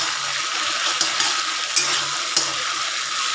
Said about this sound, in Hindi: इसको हम अभी इसमें ऐड करते हैं। इसको हम अच्छी तरह से मिक्स कर लेंगे।